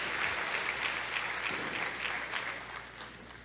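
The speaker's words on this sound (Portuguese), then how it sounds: "Pode aplaudir." A church congregation applauds during a service certificate presentation, a full, continuous wash of clapping with a low hum underneath, gradually thinning and fading toward the end.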